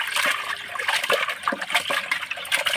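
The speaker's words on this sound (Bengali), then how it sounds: "দেখুন আমি মাছগুলো ভালো করে ধুয়ে নিচ্ছি।" Water splashes and trickles while pangas fish are washed, an uneven, close sequence of spatters and dribbles with no steady flow.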